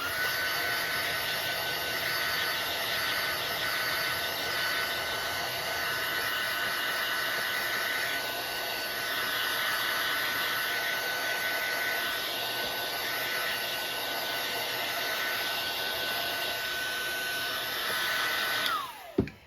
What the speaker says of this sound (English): grab my heat tool one last time